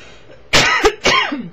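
A few close, harsh coughs in quick succession, three throaty bursts within a second.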